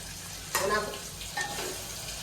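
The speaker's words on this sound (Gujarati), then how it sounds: "મારા પપ્પા ખીચડી વઘારી રહ્યા" Hot oil sizzling and crackling in a pan as khichdi is tempered, with a sudden louder burst as something is added, then a steady frying hiss.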